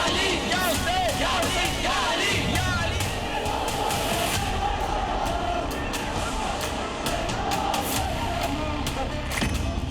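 A dense, continuous roar of a large street crowd fills the scene at a Muharram tazia procession in Prayagraj, with babble and scattered shouts, plus occasional traffic rumble and sharp knocks mixed in.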